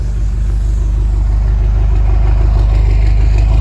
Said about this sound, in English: That's a V8. That sounds pretty damn good.